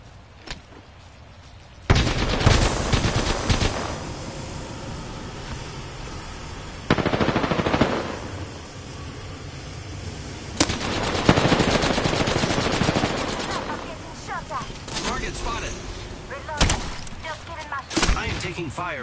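Gunfire in a PS4 shooter game rattles out in bursts and single cracks at a moderate level, spread through the scene, with a player talking over the action.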